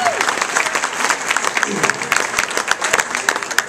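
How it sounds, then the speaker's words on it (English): An audience at an evening charity speech event breaks into a short burst of clapping, dense and fairly close, with crowd voices and a cheer mixed in throughout. "Round of applause for it."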